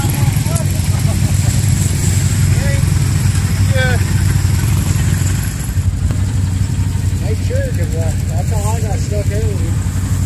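An ATV is stuck in a swamp with all four wheels spinning, its engine droning and revving steadily and loudly up close while people talk and shout over it throughout.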